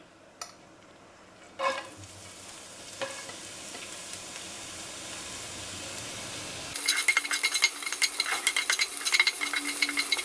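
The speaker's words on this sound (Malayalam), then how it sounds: "ഇട്ട് കൊടുത്ത വഴനയില ഒന്ന് ചൂടായി വരുമ്പോൾ നമുക്ക് ആദ്യം സവാള ഇട്ട് കൊടുക്കാം" Sliced onion hits a hot pan with bay leaf for quinoa pulao, a few knocks and stirring clatters giving way to a loud, crackling sizzle up close.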